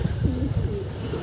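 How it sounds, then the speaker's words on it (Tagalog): A racing pigeon of Sablon and Stitch bloodline coos close by in a short, low, throaty burst of rolling notes, heard on its own. "Sablon tsaka Stitch pala yung ibon na to"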